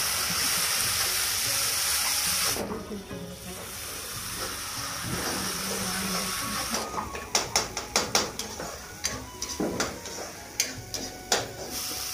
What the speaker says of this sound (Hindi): मसाले को अच्छे से भूनेंगे